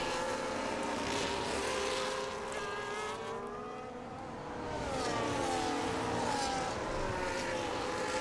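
Formula 1 race car engines from a Belgian Grand Prix racing game, several cars whining loudly and steadily with pitch sweeps as they pass, a continuous high-revving drone.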